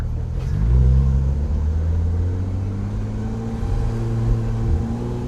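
A Porsche 911 GT3 RS with a 4-liter engine rumbles close by at a steady low pitch, with a mild rise in revs and tone shifts as it pulls away, loud and unbroken, with no talking.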